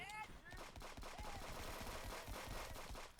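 AK rifle fire crackles in rapid bursts during a video game round, sharp repeated reports at modest level mixed with game noise and faint voices.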